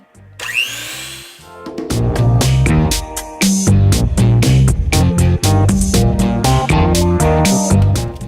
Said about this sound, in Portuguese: Agora a gente coloca os ovos e o açúcar, bate um pouco na batedeira.